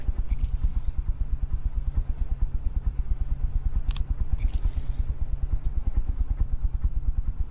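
A fuel engine in the From the Depths video game runs steadily, a fast, even mechanical chugging pulse that stays loud and unchanging throughout, with no voices over it.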